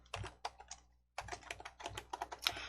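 Quiet, close typing of a file name on a computer keyboard, a quick run of key clicks, a brief pause, then a denser burst of keystrokes.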